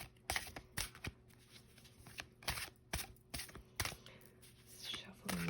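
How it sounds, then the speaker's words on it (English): An I Am Affirmation tarot deck is shuffled by hand in quiet, irregular bursts of soft card riffles and slaps, close and gentle, with faint whispered speech in places. "you can go ahead and watch while I shuffle and add cards to the pile"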